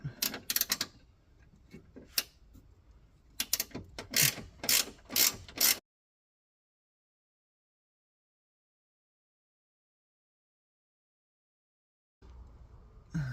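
Quick clicking bursts of a ratchet wrench tighten a suspension bolt on an Opel Corsa C, in two close clusters. Several seconds of silence follow, then a faint resumption.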